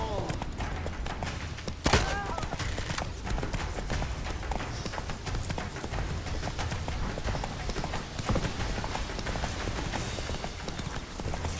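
Horse Roach from The Witcher 3 gallops in steady clip-clop hoofbeats throughout, with game music and effects beneath and a sharp impact near the start.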